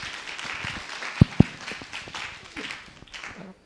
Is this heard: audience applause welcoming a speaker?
yes